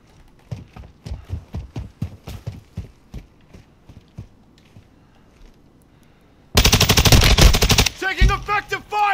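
Rapid bursts of automatic gunfire from the video game Warzone crack out in a rhythmic volley of repeated shots, then give way to a dense, loud stretch of layered blasts and effects near the end.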